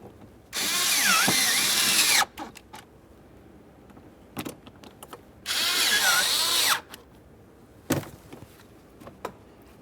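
A power drill drives mounting screws on the HVAC blend door actuator of a 2013-2020 Ford Fusion in two loud, whirring bursts of about two seconds each, close by, separated by clicks and handling knocks.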